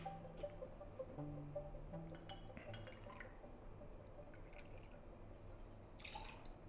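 Gin poured into a cocktail shaker cup, a faint, brief trickle and drip of liquid against metal, followed by quiet settling sounds and light clinks, heard close and alone.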